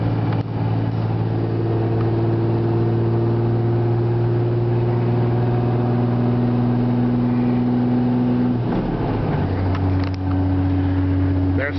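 Diesel truck engine droning steadily near 2,300 RPM while hauling 19,000 pounds up a 6% grade, then the pitch drops sharply as it shifts up into the next gear and settles into a lower, strong hum.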